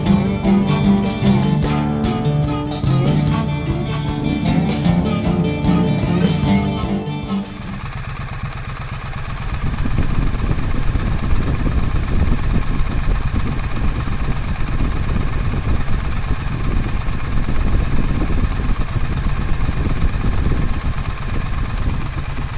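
A 2017 Triumph Street Twin motorcycle engine rumbles steadily throughout a ride, loud and continuous, after an opening stretch of music.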